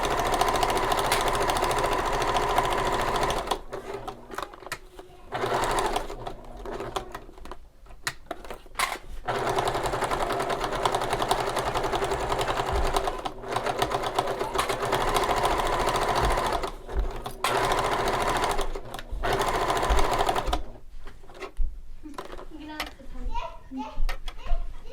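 Sewing machine basting around the stacked layers of a shoulder bag, a steady close rapid stitching hum that runs almost continuously with brief pauses, while children chatter faintly in the background.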